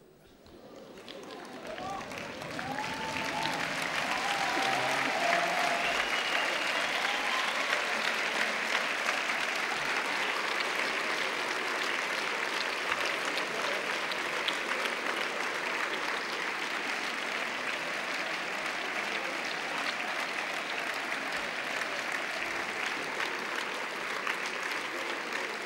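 Students at a university welcome ceremony rise and applaud their parents: the clapping swells over the first few seconds into a long, steady roar of a large hall crowd, with scattered voices beneath.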